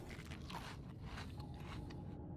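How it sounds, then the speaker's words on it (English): Chinese potato being eaten in the video game Subnautica, heard as a quiet run of crisp crunching bites, soft and close with no talking. "I'll eat lots of Chinese potatoes."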